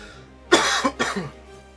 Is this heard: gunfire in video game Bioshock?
no